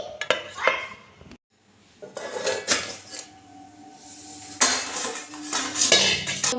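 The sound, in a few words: cake tin set on a stand in a pot, lid placed on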